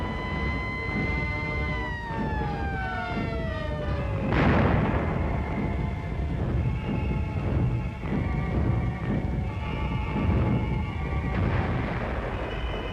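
World War II anti-aircraft guns fire in a dense, rumbling barrage of booms, with falling whistling tones just before the heaviest blasts, loud and continuous throughout.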